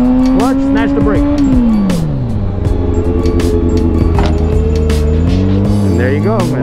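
A motorcycle performs a rolling stoppie: a loud, close engine hum holds steady, then its pitch falls as the throttle closes and the brake is snatched, then settles into a lower drone.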